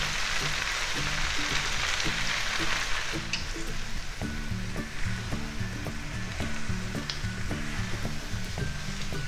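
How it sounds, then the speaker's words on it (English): Spring onion greens sizzling in a hot pan of Chinese shrimp chilli, a dense steady frying crackle with scattered sharp pops and spatters running throughout. "At this point, I will add the spring onion greens."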